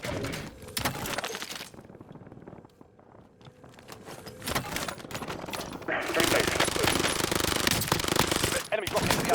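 Automatic gunfire from first-person shooter Warzone, played on a budget PC at 1440p, with bursts of rapid shots and impacts throughout, loudest in the final seconds, under occasional game voice callouts.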